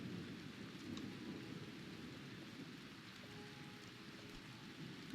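Steady rain in RimWorld, a soft continuous hiss with low rumbling underneath, faint and even throughout with no voices.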